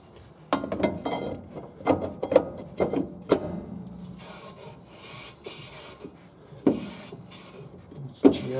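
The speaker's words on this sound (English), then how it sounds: "Let's see if I can get the drum on." A brake drum is worked onto the hub of a 2006 Scion xB, giving repeated close metallic scrapes, knocks and rubbing bursts in an uneven rhythm, with quieter gaps between.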